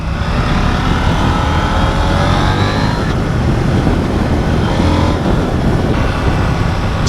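KTM 890 Duke R motorcycle engine on a road ride, a loud continuous drone mixed with heavy wind rush, steady throughout with no talk.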